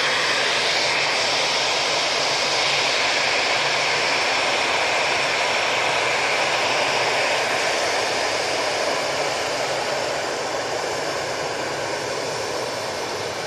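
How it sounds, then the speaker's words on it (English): An EasyJet airliner departs Manchester Airport for Belfast, its jet engines a loud, steady broadband roar that holds without a break for the whole stretch. "Easyjet coming on in front of me off Victor Alpha."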